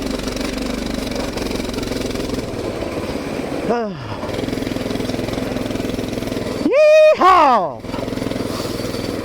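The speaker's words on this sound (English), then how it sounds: "A little bit of Coleman mini bike action up in y'all. Back on the ice. Taking off." Coleman mini bike with studded tires riding on ice, a steady buzzing small engine that revs up in rising whines as it takes off, heard close with a shout over it.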